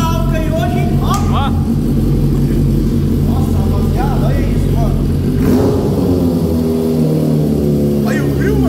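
A Honda Fan 125 motorcycle fitted with a Hornet engine, started cold, idles roughly and revs loudly up close. The engine sound fills the whole clip while someone talks over it.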